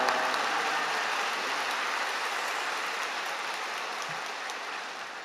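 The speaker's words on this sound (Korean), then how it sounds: "우리 목사님 큰 박수로 모시겠습니다" A large church congregation applauds at a seminar service, a broad, dense wash of clapping that holds steady and slowly tapers, with no speech over it.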